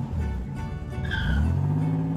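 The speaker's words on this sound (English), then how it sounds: "you can start the car." Cartoon car engine starting up and revving, a short mechanical roar with a rising whine midway, loud and close with no voices over it.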